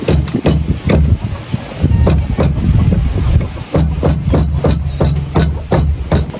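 Repeated sharp hammer strikes cracking a mud crab shell, about a dozen knocks in an uneven rhythm, close up over steady wind and low rumbling background.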